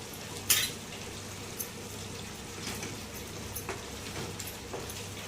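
Butter melts with kasuri methi in a pan for palak paneer, giving a soft, steady sizzle with a few light utensil taps, quiet and close, with no talking.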